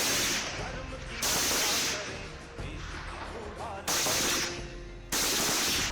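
Gunfire at an Indian Army Bhairav Battalion firing practice range, heard as loud sustained bursts of shots alternating with rattling volleys, close and dense throughout.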